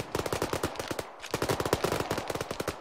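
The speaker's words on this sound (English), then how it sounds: "Look, shooting." Rapid bursts of automatic rifle fire, likely an AK, in a military video game set around Mosul, with steady cracking shots, a brief pause, then another sustained burst.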